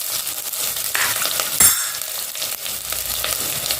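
Onions sizzle and crackle in hot oil as they're stirred in a pan for a Mangalore-style mackerel fish curry; a steady frying hiss with a sharper scrape and spatter near the middle, close and continuous.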